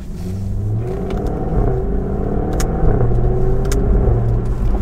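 A Jaguar F-Type V8 S engine hums and rumbles steadily in the rain, its revs rising and swelling as it accelerates, loud and close throughout.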